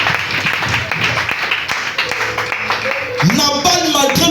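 A church congregation breaks into applause and cheering for Jesus Christ during a sermon, a dense sustained clapping with voices mixed in, swelling louder near the end.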